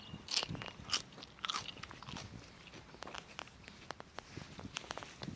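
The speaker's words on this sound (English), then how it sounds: "These are the sweet peas. They're really good. You just snap them off and you can eat them just like that." Fresh sweet peas are bitten and chewed in a summer garden, giving a series of crisp crunches and snaps followed by quieter irregular chewing, close and fairly faint, with no talking.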